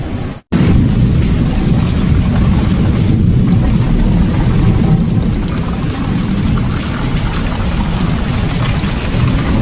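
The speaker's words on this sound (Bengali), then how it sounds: "বৃষ্টি হচ্ছে দেখো মুষলধারে, আর সঙ্গে বিদ্যুৎ চমকাচ্ছে প্রচুর।" Steady, heavy rain pours continuously at close range, a dense broadband roar with no voices, during a night thunderstorm with frequent lightning in a Sundarbans village.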